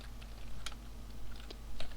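Irregular clicking keystrokes on a computer keyboard during a Minecraft session, light taps scattered over a low steady hum, with no speech.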